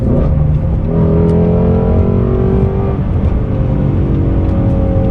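A Ford Mustang GT350 V8 engine revs hard and holds at high RPM, a loud, buzzy, throaty roar with rising pitch sweeps.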